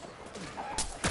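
A short burst of gunfire-like blasts from a cannon shot in a PS4 video game, with two sharp bangs close together near the end of a brief moment of faint background noise.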